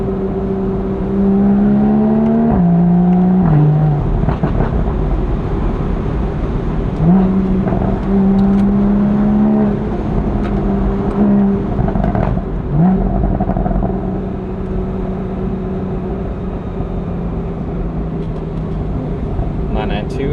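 Porsche Boxster or Carrera on a tight mountain pass road, its engine note rising and dropping repeatedly as gears shift up and down, a loud close drone with several distinct pitch jumps under light cabin noise.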